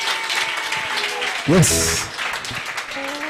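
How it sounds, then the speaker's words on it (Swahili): Congregation clapping during a church deliverance service, a loud wash of applause running under a speaking voice, with a brief chant-like vocal rise in the middle. "Mpigieni Yesu makofi."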